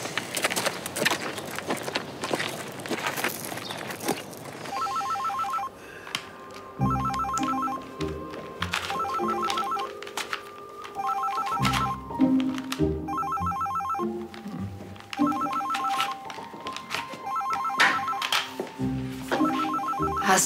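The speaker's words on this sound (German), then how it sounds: "dein Telefon klingelt" A telephone rings in repeated bursts with short pauses between them, clear and fairly loud over a quiet indoor room, with faint shuffling sounds beneath.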